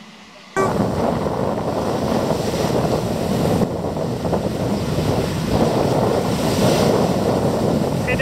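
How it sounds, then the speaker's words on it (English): Strong December wind buffeting a camera microphone fitted with a foam rubber windshield outdoors, a loud, continuous rumbling roar that starts abruptly and gusts unevenly throughout. "And it is windy again."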